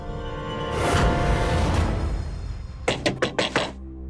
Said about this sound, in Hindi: शीतल, दरवाजा खोलो